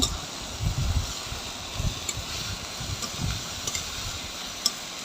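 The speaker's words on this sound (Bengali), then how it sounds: "পেঁয়াজটা একটু লাল লাল করে ভেজে নেব।" Salted onions fry in a pan for a mutton curry, a soft steady sizzle with a few low scraping stirs and small ticks, fairly quiet throughout.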